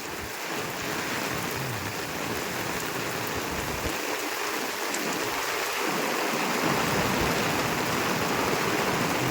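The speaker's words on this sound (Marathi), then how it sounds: "जोरदार लागलं पाऊस." Heavy rain with strong wind lashing a Konkan village, a dense continuous roar of downpour on surfaces and running water, loud and unbroken throughout, no voices.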